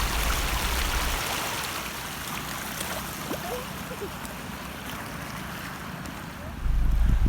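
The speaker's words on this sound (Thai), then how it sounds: "ถึงแม่น้ำบริเวณนี้จะลดปริมาณลงไปเยอะ แต่ก็ยังไหลแรงอยู่นะครับ" Fast-flowing floodwater rushes along a partly flooded road in Thailand after the level has dropped, a continuous near roar of moving water with no break and a slightly heavier low rumble at the very end.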